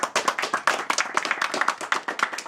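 Clapping from a small audience at a student ultimate frisbee club's address comes as brisk, uneven hand claps in a dense rhythmic patter, close and fairly loud throughout.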